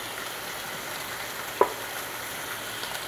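Bacon frying in a pan gives a steady, fairly quiet sizzle throughout, with one sharp pop or clink partway through and no talking.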